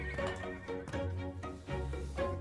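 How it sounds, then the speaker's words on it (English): Horses neighing and whinnying close by, several loud calls in a row, with clip-clopping hooves underneath. "The horses. Look at the horses."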